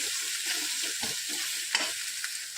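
Traditional eggplant bharit with fresh coriander is stirred and mixed in a hot pan. A continuous sizzle runs under rhythmic scraping strokes of a spatula, close and clear, with no voices.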